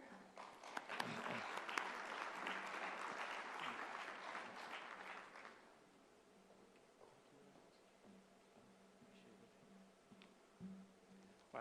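Warm applause from a conference audience greeting a keynote speaker, dense steady clapping for about five seconds that then thins out to a quiet room with a few scattered claps.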